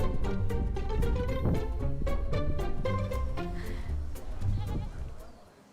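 Goats bleat repeatedly at a goat camp: a close, loud run of overlapping calls that fades toward the end, with faint voices in the background.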